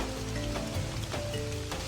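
Steady rain falls over the Cerrado landscape of Chapada dos Guimarães in Brazil, a dense, continuous hiss of drops with faint tonal calls threaded through it.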